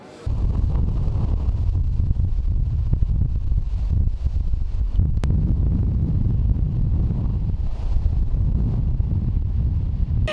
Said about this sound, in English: It's just a really windy day.